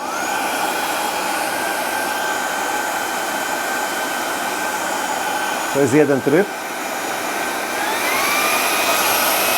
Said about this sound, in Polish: jeżeli chodzi o hałas, który generuje ten odkurzacz